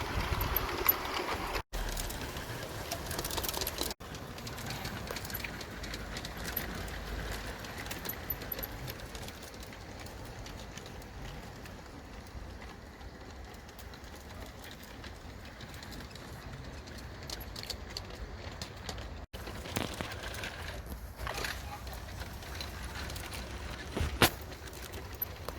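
A model train with six wheels and two pickup shoes runs along a test track, picking up speed on a slight downhill, its low continuous rumble and rattle steady and fairly quiet throughout, with a few brief clicks.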